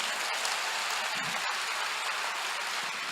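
A church congregation applauds during a worship service, a dense, steady wash of clapping that holds evenly throughout without voices.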